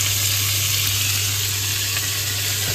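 Pork ribs, about half a kilo, sear in a pan with a steady, loud, continuous sizzle that holds even throughout, with no voices over it.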